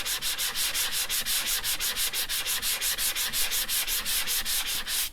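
Sandpaper rubbing the corners of scrapbook paper on a fall craft layout, a fast steady back-and-forth scratching that runs without a break, close up and alone.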